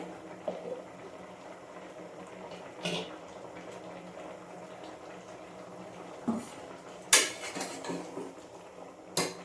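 Radish sambar, made without lentils, simmers in a pot with a soft, steady bubbling underneath and several sharp utensil clinks against the metal at intervals.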